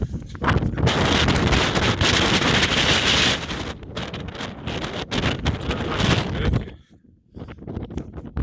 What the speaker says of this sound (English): we're getting battered by this westerly wind